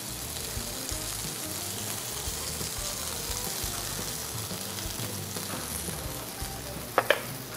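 Mojarra fish searing in hot oil in a pan as marinade is added, a steady close sizzle and crackle throughout with a few sharp clinks of a utensil near the end.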